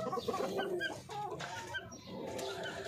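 Chickens and chicks cluck and cheep close by, a busy overlapping chorus of short clucks and high peeps with a faint voice behind them.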